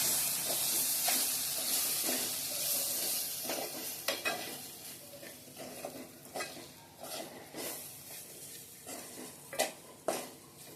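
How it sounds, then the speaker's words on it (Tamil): Oil sizzles steadily in a pan while a spoon stirs and scrapes, sautéing ingredients with salt for Tamil fish curry (meen kuzhambu), with irregular clinks and scrapes over the constant hiss. "குழம்புக்கு தேவையான உப்பு அளவு போட்டிங்கன்னா சரியா போட்டு நல்லா இது எண்ணெயில் ஒரு வதக்கணும்"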